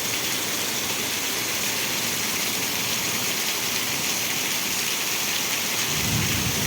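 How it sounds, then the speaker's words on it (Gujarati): A heavy downpour with gusting wind and lightning in Vejalka village, Ranpur, Botad district, pours down in a constant, loud, unbroken roar, with no voices. "અત્યારે એટલો વરસાદ ચાલુ છે"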